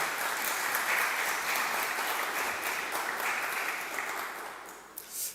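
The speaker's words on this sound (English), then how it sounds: "Please, let's give him a round of applause." Lecture audience at a talk on Egyptology applauds a guest speaker, a steady wash of many hands clapping that fades slightly toward the end, with a brief bump just before it stops.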